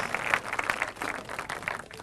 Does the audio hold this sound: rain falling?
no